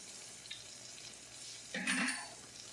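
Garlic drops into a pan of cooking onions, setting off a soft background sizzle and then a louder, brief burst of frying and stirring near the end; quiet overall.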